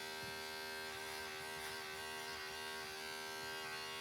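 An electric hair clipper blade buzzes steadily and quietly while trimming along the fade line of a self-cut haircut, with a constant motor hum and no talk.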